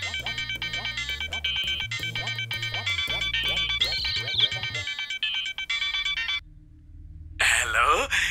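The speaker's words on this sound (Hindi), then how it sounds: "ये मीना का फोन है, मरकर फोन कर रही है।" A mobile phone ringtone plays a looping electronic melody with a steady rhythm for several seconds, loud and close, then cuts off before a burst of other sound.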